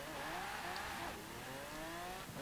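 A 1991 Bentley Turbo R engine revs in Forza Horizon 4, a loud continuous engine note with rising pitch sweeps and a brief dip as gears change, steady and close.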